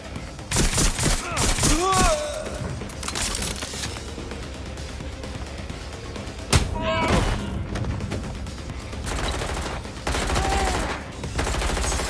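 Gunfire in the video game Watch Dogs: Legion erupts in repeated loud bursts and rapid volleys with heavy booms across the stretch, mixed with game music and shouted voices.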